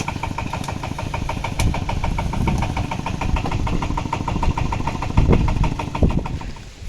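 A diesel tractor engine idles steadily throughout, with a low, rhythmic knocking chug and a slight rise in rumble near the end.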